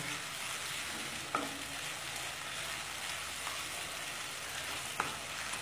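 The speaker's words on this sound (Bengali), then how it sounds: "তেল ছেড়ে না আসা পর্যন্ত খুব ভালো করে কষতে থাকবো" Tomato masala sautéing in oil for a chickpea curry makes a soft, continuous sizzle close by, broken by two brief knocks of a spoon against the pan.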